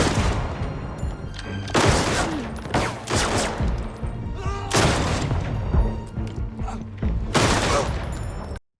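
Gunfire from a gangster film, with dense bursts of shots and booming impacts over a loud, continuous soundtrack, several sharp volleys in close succession.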